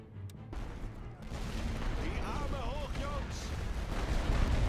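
Artillery in The Great War: Western Front rumbles as a dense, continuous barrage of distant booms that slowly swells in loudness, with faint whistling tones drifting over the thunder.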